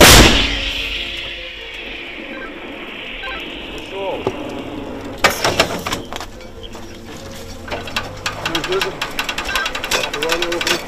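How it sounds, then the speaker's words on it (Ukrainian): A loud boom opens the clip, followed by a sharp blast midway and rapid bursts of fire, with voices talking in the background, during combat near Pokrovsk. "Постріл!"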